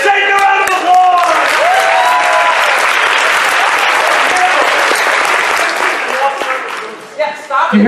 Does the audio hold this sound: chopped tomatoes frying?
no